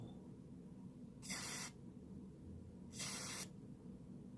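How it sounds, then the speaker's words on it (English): Two short bursts of lubricant spray aimed into the cylinder of a vintage Yale padlock, each hiss lasting about half a second, close up over a low steady background hum. "That'll help lube it to get it into the cylinder."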